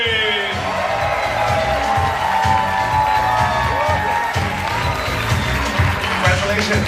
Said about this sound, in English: please give a big round of applause to